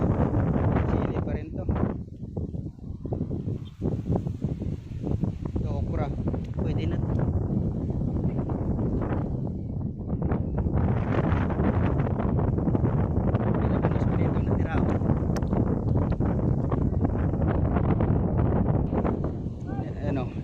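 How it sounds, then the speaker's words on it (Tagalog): Strong wind buffets the microphone in continuous rough gusts, with a person speaking intermittently beneath the roar. "lakas ng hangin mga KMC oh."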